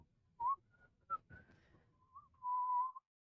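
A person whistles alone in a quiet room during a darts tournament, sending several short rising chirps followed by a longer steady held note, close and clear over faint background murmur.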